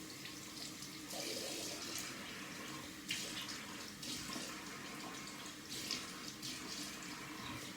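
Tap water runs steadily into a sink while a razor is rinsed under it during a wet shave, a continuous close hiss with small splashy surges and no talking.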